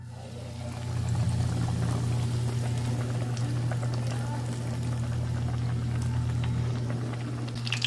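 Fish fillet frying in hot cooking oil in a wide pan: a steady, dense sizzle that swells after the first second and holds evenly, over a low constant hum.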